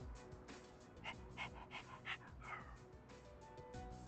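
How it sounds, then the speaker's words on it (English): Koromaru, the dog in the Persona video game, pants and gives soft whimpering growls at low volume, a series of short breathy sounds close up. "Koromaru knows this guy's bad news. That's why he growled at him."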